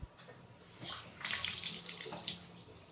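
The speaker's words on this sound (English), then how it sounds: "Running water fine." Water runs steadily from a bathtub tap, a soft, hissing splash heard close by, rising slightly partway through.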